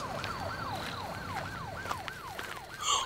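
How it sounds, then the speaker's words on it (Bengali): A police car siren wails in a fast, regular rising-and-falling sweep, loud and close, repeating about every third of a second with no voices. "কানে এসে পৌঁছালো পুলিশের গাড়ির সাইরেনের আওয়াজ"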